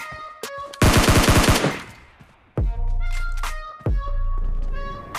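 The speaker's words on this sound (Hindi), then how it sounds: "उसको नीचे नहीं उतरने के लिए और उसको डराने के लिए मैंने ऐसे ही फायर करता हूँ" A shooter video game sounds a loud, rapid burst of automatic gunfire, then a few single sharp shots, each followed by booming low tails and ringing tones, with no talking.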